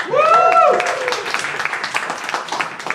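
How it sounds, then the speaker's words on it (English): Audience clapping at a crowdwork comedy show, a burst of applause that begins under a loud voice, then thins into scattered claps as the room settles. "Great clapping, I got held up. Good clapping. Keep it going."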